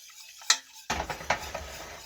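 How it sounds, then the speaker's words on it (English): A utensil scrapes and clinks around a pan of keto caramel as the mixture is stirred to dissolve chunks, a few sharp close knocks and soft sizzling swishes over about two seconds, no talking. "Move your pan around to find those chunks."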